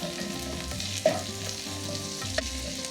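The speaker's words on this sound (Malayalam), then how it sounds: "ഒരു 5 പച്ചമുളക്, എരിവുള്ള പച്ചമുളകാണ്, അതും കൂടെ ഇതിലിട്ട് കൊടുത്ത് നന്നായിട്ടൊന്ന് വാട്ടിയെടുക്കണം" Ginger and spicy green chillies sautéing in a pan for a Kerala lemon curry, a steady close sizzle with a couple of sharp utensil taps and stirring scrapes.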